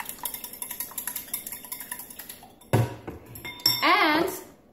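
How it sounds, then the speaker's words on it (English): Protein mug cake batter with vanilla being mixed in a mug, starting with a quick run of light rhythmic spoon clinks against the mug, then a few louder scraping, stirring knocks near the end. "and then we're gonna mix, and that's vanilla"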